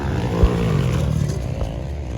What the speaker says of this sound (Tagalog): gipasayo-sayo pag ni Ray Rayo ang motor.